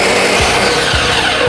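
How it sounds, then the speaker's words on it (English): A Ninja blender runs steadily on its low setting, mixing protein pancake batter in a loud, continuous motor whir with no pauses and no talking. "Right here in my Ninja Blender,"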